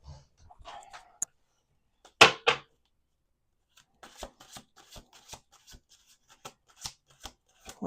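Tarot cards are shuffled in quick bursts of riffling and soft slaps, close and fairly quiet, with gaps between the sharper snaps.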